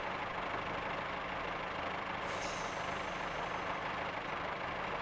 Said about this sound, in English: I've hit the full service brake.